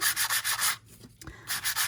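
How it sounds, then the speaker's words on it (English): Rapid rhythmic scratching of sandpaper rubbed back and forth on card stock paper, close and steady, with a brief pause midway before the strokes resume. "I'm going to take my sanding paper and I'm going to sand it a little bit"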